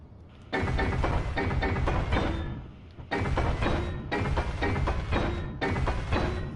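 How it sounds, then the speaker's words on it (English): Welding in the video game Crashed on Mars comes through as loud, buzzing mechanical bursts in four separate runs, each lasting a second or more, with brief pauses between them. "I'm just going to go ahead and weld this stuff up"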